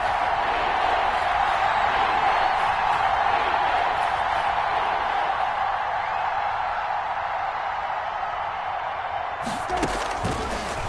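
Steady roar of a large stadium crowd in a football video game, building before a big third down, sustained and broad, then cut by a sudden sharp burst near the end.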